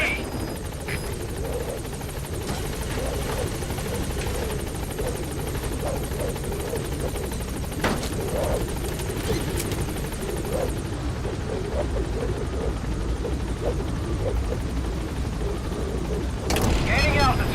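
The Pequod helicopter in the Metal Gear Solid V video game gives a continuous rotor roar at close range under game radio chatter and ambient effects, with occasional sharp impacts and a swell near the end.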